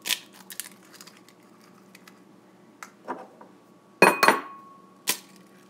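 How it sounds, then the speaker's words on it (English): Eggs are cracked into a bowl in a home kitchen. A few sharp, quiet taps and cracks against the bowl stand out over near silence, with the loudest pair close together near the end. "So now I'm going to crack the eggs."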